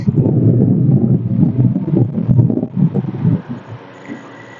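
Strong rushing wind from a fan buffets the microphone with low, gusty roaring that fluctuates, then eases toward the end.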